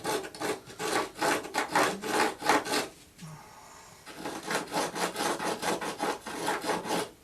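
Steady, rhythmic rubbing strokes of a marking tool scribing lines into wood for a guitar rosette, a brief pause midway, then the back-and-forth scraping resumes close and even.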